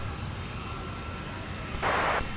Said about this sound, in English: good takeoff